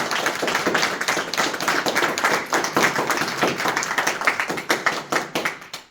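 An audience at a Sea Scout Ship 317 Bridge of Honor ceremony breaks into a round of applause, a dense, fairly close burst of many hands clapping that thins into scattered claps near the end.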